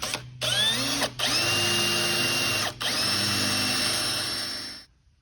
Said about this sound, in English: All right, so we got our holes drilled